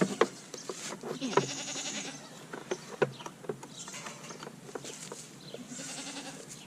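Goats bleating in a farm pen, several short wavering calls spaced through the stretch over rustling and scuffling, fairly close and moderately loud, with no talking.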